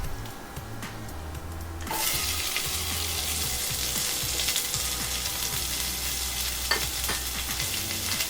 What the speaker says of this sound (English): I'm just going to push this chorizo to the side, and then I'm going to add 1 chopped onion.